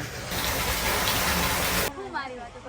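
Water gushes loudly into a newly installed water tank at a Rajkot house under renovation, a dense, steady rush that cuts off abruptly, leaving quieter trickling and faint voice-like sounds.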